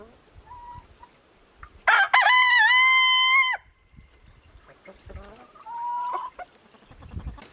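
A rooster crows once loudly and close by, a long strained call, among softer clucks from backyard chickens on a garden homestead with quiet gaps between.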